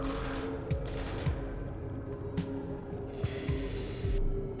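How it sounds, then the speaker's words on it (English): Gunfire from an NPC named Alex firing at Combine soldiers in a video game, heard as a steady stream of rapid shots. A low mechanical hum sits beneath the shots, which stay distant and muffled, with a few sharper cracks standing out. "She shoots at Combine and does all the normal Alex behavior."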